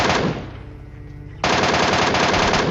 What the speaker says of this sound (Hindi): MK ने उसको जस्ट गोली चलाने का मौका भी नहीं दिया, इसको भी काफ़ी इजीली मार दिया।